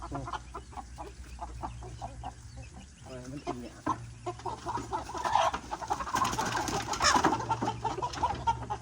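Four-month-old chickens cluck repeatedly near a rice paddy. The clucking is close and busy and grows denser toward the end, while someone talks in Thai over it.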